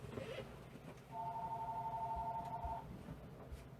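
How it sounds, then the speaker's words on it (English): A telephone rings once with a steady electronic tone lasting under two seconds, fairly faint against a low room rumble. "Phone's ringing."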